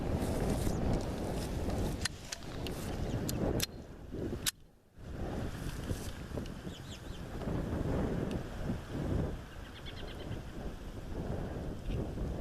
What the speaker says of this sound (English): Woo, it's getting windy.